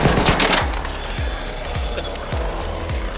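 Rapid bursts of gunfire in the Arc Raiders video game, a loud run of repeated sharp shots firing toward the players, with a busy, dense game mix behind them.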